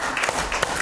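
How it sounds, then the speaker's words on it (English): A church congregation applauding during a worship service, a brief dense burst of hand clapping. "Give the Lord a big hand clap this morning."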